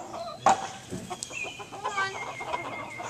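A mother hen clucks in short, choppy bursts at close range, with other chickens and farmyard sounds mixed in around her.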